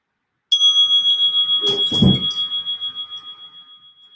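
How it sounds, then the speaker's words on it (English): A single bell struck during a guided relaxation, one clear bright ring that swells and then decays slowly, pulsing as it fades, alone in an otherwise quiet setting. "You hear the bell."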